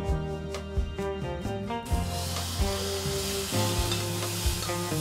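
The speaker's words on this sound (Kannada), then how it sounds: "ಒಗ್ಗರಣೆ ಬಿತ್ತು ನಮ್ಮ ಅವರೆಕಾಳು ಸಾರು" Ghee tempering sizzles into avarekalu saaru, a steady frying hiss that swells suddenly after a couple of seconds, played under continuous background music.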